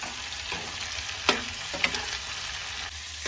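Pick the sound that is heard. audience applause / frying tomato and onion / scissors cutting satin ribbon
frying tomato and onion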